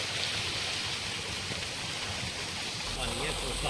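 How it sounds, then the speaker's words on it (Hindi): Steady broadband rush of a mountain stream flowing near a Himalayan temple route, continuous and fairly close, with no voices over it. "पानी की आवाज़ आप देख रहे हो कितनी प्यारी आ रही है"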